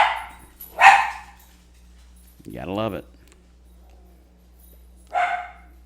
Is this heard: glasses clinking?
no